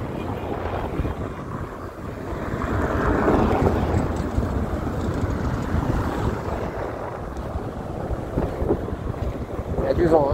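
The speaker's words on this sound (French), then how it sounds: "Il y a du vent, hein." Heavy wind buffets the microphone on an electric scooter ride through Paris near the Champs-Élysées, a continuous roaring rush that swells and fades with gusts, with faint voices underneath.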